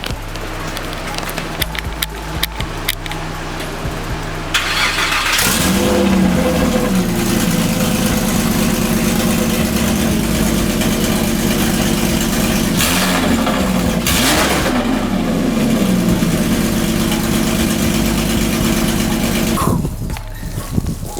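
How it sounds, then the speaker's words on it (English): A Porsche with a no-muffler exhaust fires up after a few faint clicks, then settles into a loud, raspy, close idle with a couple of revs before shutting off near the end. "Get that no muffler start up real quick."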